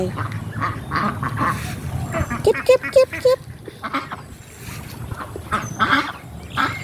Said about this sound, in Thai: ตามเป็ดค่ะทุกคน ตามเป็ดไป